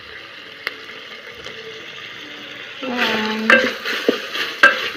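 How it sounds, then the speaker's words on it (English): Beef for Kenyan pilau starts frying in a little cooking oil, a sudden loud sizzle that swells after a quiet stretch of faint clinks, with a brief spoken word at the start. "start the frying process"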